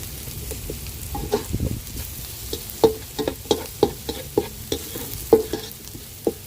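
Garlic and onion sauté in a pan, a steady low sizzle broken by a run of sharp, regular scrapes and clacks from stirring, close and moderately loud with no talking.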